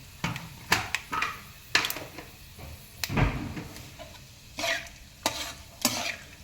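Cumin and mustard seeds crackle and sizzle in hot oil while being stirred for Maggi noodles, with sharp bursts of spattering scattered across the pan at close range and no talking.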